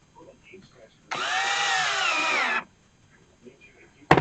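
A power drill drives the last two screws into a 20 x 20 outdoor wooden table, a single steady whir of about a second and a half that rises in pitch as the screw seats, with quiet handling noises around it.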